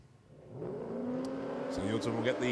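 A drag racing car in the Super Street class makes a solo pass down the Willowbank Raceway strip in Queensland, its engine building into a steady, rising roar and holding loud to the end.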